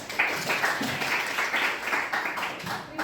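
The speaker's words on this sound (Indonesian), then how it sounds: "Terima kasih, tepuk tangan." Students applaud in a classroom at the end of a biology lesson on recycling plastic waste, a short burst of soft, fairly close clapping with a murmur of voices beneath it.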